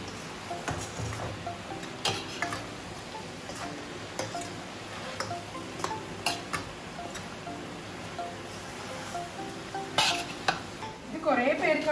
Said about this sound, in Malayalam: ഒന്ന് വഴറ്റി ചെറിയ തീയിൽ വേവിച്ചെടുക്കാം. ഇതിലേക്ക് 1 കിലോ ക്യാബേജ് അരിഞ്ഞത് കൂടി നമുക്ക് ഇട്ട് കൊടുക്കാം.